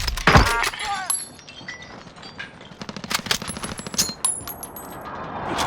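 Gunfire in Call of Duty Warzone on Rebirth Island: dense bursts of automatic fire and sharp single shots, loud and close at first, then repeated rattling volleys with metallic clinks through the rest.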